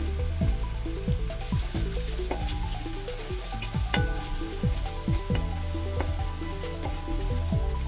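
Sliced onions fry with a pinch of sugar in a pan for Kerala-style fried rice, a dense, steady sizzle with scattered crackles and pops running throughout, close and even.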